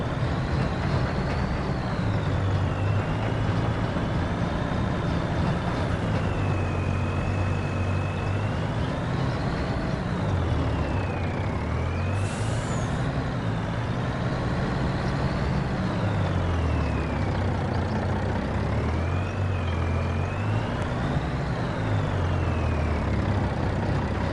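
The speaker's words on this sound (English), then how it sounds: "Truck with 500 horsepower can't pull that." A 500-horsepower truck strains under a heavy load in Farming Simulator 25: a loud, continuous engine drone that rises and sags in pitch as it labours, with no pauses and no talk over it.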